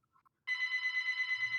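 A phone ringtone starts suddenly after near silence, a bright, pulsing electronic ring repeating steadily and fairly loud.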